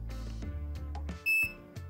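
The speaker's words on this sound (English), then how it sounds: "whenever we set the temperature, it makes a beep" A soldering station chirps a short, bright electronic beep as its temperature is set, a single clean tone in a quiet room.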